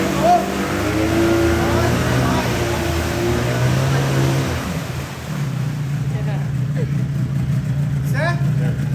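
A 30HP outboard boat motor runs in gear in the water, a loud, steady engine drone with pitch shifts as it revs, under a voice speaking intermittently.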